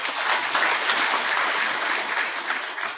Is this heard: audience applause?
yes